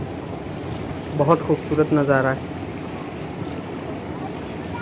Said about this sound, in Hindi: ठंडा ठंडा पानी पाँव को लग रहा है